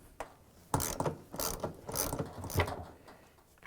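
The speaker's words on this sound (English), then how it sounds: "We need to take out that 13mm bolt" Several rapid ratchet clicking bursts as a 13mm bolt is loosened from a Samsung washer's shock absorber, close and crisp, in irregular strokes with short pauses between.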